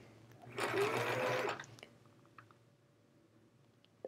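While quilting, a sewing machine that is running out of bobbin thread stitches in a short, close burst lasting about a second, then stops, leaving a faint hum and a few small clicks.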